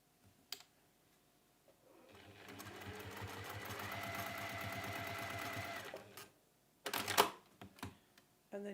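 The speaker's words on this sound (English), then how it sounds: "and we sew that edge down." Sewing machine stitching down the folded edge of a pinwheel cushion cover, running in one steady, fairly loud burst of several seconds between brief clicks and handling noises.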